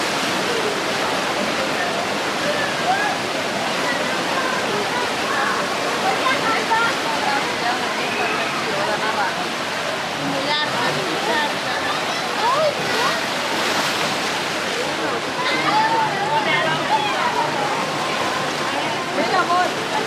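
On the rapids water ride at PortAventura theme park, rushing, churning water roars steadily and loudly throughout, a dense continuous wash with brief splashing swells and voices buried underneath.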